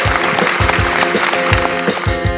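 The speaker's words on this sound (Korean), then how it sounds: "박수 신나게 이렇게 들썩들썩 다시 한번 해봅니다" Applause from an outdoor concert audience at a spring trio concert in Jinhae, steady clapping in rhythm over loud music with a strong beat, a dense, lively wash of sound with no clear voices on top.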